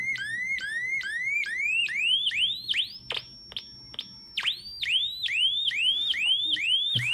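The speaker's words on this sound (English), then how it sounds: "And we have a siren." Electronic siren whooping in rising sweeps, pausing on a steady held tone, then resuming its repeated sweeps at a quicker pace.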